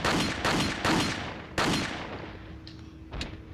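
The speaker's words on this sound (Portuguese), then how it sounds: "gastei 30 tiros" Gunfire in the video game Resident Evil 4, four loud, sharp shots spaced about half a second apart, each with a decaying tail, followed by fainter impacts.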